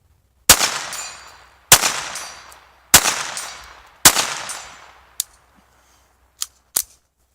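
Four sharp, evenly spaced shots from a Ruger Standard .22 pistol crack out close and loud, each trailing off briefly, followed by a few faint, tiny distant pings from a steel plate at 100 yards.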